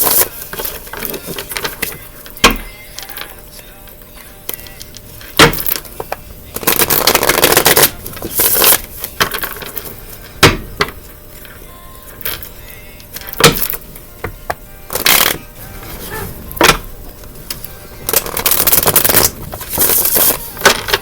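Cards are shuffled upside down in repeated sharp riffling bursts, close and loud, over a steady noisy background with wind outdoors.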